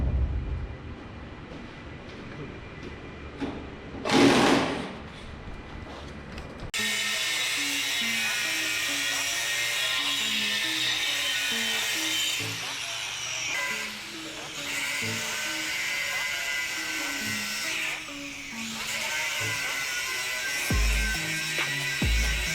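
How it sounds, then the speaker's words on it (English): A power grinder strips paint from a metal hitch part in a workshop, a loud continuous grinding whine that runs steadily from about a third of the way in after a brief earlier burst. "He's grinding the paint off of that one right now."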